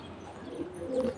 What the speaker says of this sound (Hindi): ये सारे कबूतर हमने, इतने सारे कबूतर पाल रखे हैं।